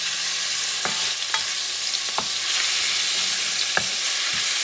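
Puerto Rican style sofrito sautéing in a preheated pot, a loud even sizzle broken by a few sharp spoon taps and stirring scrapes.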